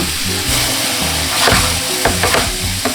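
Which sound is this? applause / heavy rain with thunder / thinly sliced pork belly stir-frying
thinly sliced pork belly stir-frying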